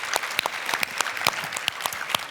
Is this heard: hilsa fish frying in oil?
no